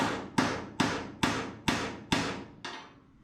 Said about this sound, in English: Now we're gonna take our hammer and dolly.